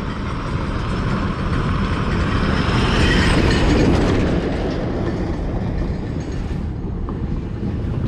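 An MSRTC state transport bus roars past very close on a dusty rural road without stopping, a loud, continuous rumble and rush of wind and tyres that swells in the middle and eases slightly toward the end. No talking.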